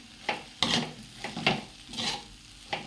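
Chow mein with soy sauce is stirred in a pan, giving about half a dozen quiet, rhythmic scraping strokes of a utensil against metal over a low background hiss.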